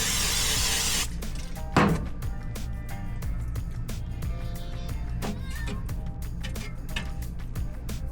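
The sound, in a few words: spraying cooking oil on chicken in air fryer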